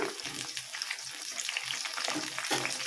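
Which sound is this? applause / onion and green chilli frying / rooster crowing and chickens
onion and green chilli frying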